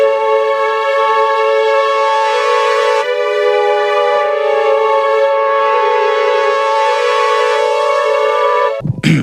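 Vintage synth and violins play together in long sustained chords that blend into a washy, moving texture, loud and close, stopping abruptly at the end.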